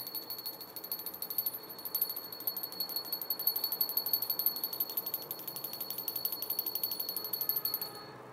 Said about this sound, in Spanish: Les voy a sonar la campana para que se conecten.